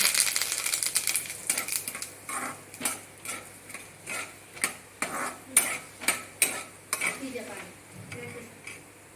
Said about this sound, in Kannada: ಸಾಸಿವೆ ಹಾಗೂ ಕರಿಬೇವಿನ ಸೊಪ್ಪು ಹಾಕ್ಕೊಂಡು ಫ್ರೈ ಮಾಡ್ಕೊಳ್ಳೋಣ